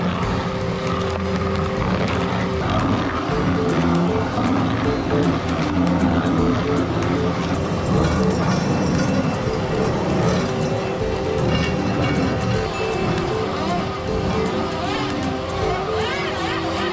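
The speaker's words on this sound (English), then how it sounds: "operates with a 150 horsepower diesel engine, powerfully crushing two large tree stumps" Remote-controlled stump grinder with a 150 horsepower diesel engine crushing two large tree stumps, a sustained loud engine drone with rapid grinding clatter and crackle throughout, while a voice narrates over it.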